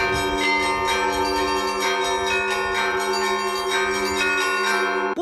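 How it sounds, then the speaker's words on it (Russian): Church bells at the Cathedral of the Nativity of Christ in Khabarovsk, rung by hand after a Saturday service, sound loud and close in overlapping, rhythmic peals that hang in a continuous ringing wash. "После субботней службы в Христорождественском соборе раздается звон колоколов."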